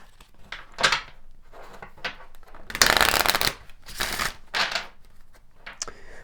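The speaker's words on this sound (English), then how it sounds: "Let's pull some additional cards." Tarot cards shuffled by hand in a series of crisp, riffling bursts, close and fairly loud, with one longer riffle in the middle and short flicks and taps between.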